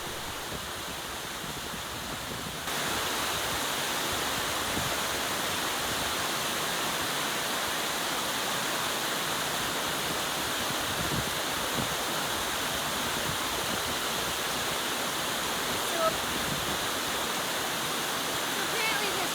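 Continuous rushing of flowing river water in Greenland, steady and full, filling the scene without any voices.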